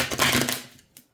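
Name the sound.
shuffling tarot cards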